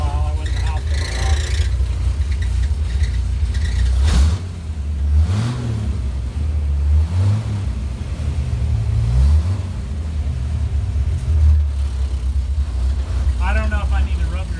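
A 1964 Mercury Comet 250 engine idles steadily with a low, slightly uneven rumble, while someone talks over it at intervals.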